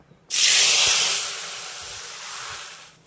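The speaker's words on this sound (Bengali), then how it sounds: "এই যে রান্না করে নেওয়া সবজিটাকে এই যে কড়ার মধ্যে ঢেলে দিতে হবে" Pre-cooked mixed vegetables tipped into a hot karai over a low gas flame, giving a sudden loud burst of hissing sizzle that stays strong and slowly eases over three seconds, with no talk.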